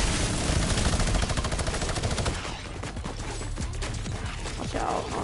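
A minigun in a video game fires a fast, steady stream of loud rapid shots that rattle continuously before easing off into scattered bursts.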